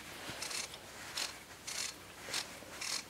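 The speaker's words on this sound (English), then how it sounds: "You can kind of hear the brushes come loose in there and come up against it." The brushes of a Briggs and Stratton starter motor come loose inside the housing. They make faint, repeated metallic scraping rattles in short bursts about every half second against a quiet background.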